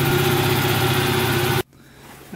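A scrap moped's small engine idles low and steady with a throbbing rumble, then cuts out abruptly, leaving near silence before a faint noise at the end.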